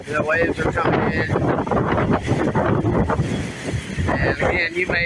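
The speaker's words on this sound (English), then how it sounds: "there may be too much wind noise to even hear me" Heavy typhoon wind buffets the microphone on an island shore in a continuous loud roar and rumble, with a voice faintly audible beneath the gusts.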